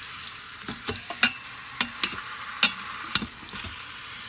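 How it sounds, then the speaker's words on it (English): Pork searing in an Instant Pot, a steady close sizzle with scattered clicks and scrapes as the meat is stirred and turned, no speech. "Kind of helps sear it, sealing the moisture in, keeping the flavor inside."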